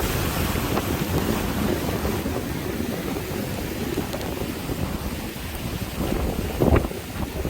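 Strong typhoon wind and rain lash the seafront in Sokcho, a dense, steady roar of gusts buffeting the microphone along with rushing surf, loud and continuous with a brief sharper burst near the end.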